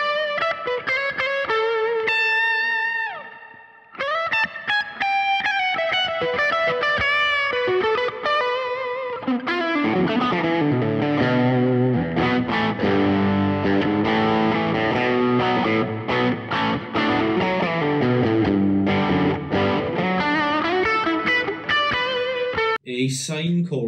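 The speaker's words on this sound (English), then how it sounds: "A sine chorus and a large room reverb." Electric guitar played through a Fender Mustang Micro with sine chorus and large room reverb, clean arpeggiated notes giving way to fuller, denser strummed chords that ring out continuously.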